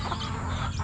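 Chickens cluck on a farm in a short, steady burst of close barnyard clucking with no voices.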